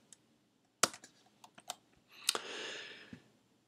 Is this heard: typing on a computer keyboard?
yes